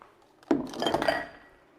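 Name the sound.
dish being put into a soapy sink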